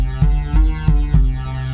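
A deep synth bass note pulses four times with a bright, buzzy top, each hit swelling then holding with a throbbing, resonant tone.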